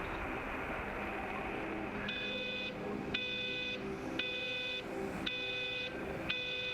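Six evenly spaced electronic beeps, clear and fairly loud, repeating about once a second over a constant background hum, from the video game Everybody's Gone to the Rapture.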